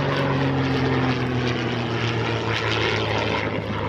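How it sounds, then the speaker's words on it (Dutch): Three Curtiss propeller aircraft fly overhead at an airshow in Oostwold, giving a steady, loud engine drone with a low propeller hum that persists throughout. "Maar helaas in de lucht drie Curtis vliegtuigen en dat zie je bijna nooit."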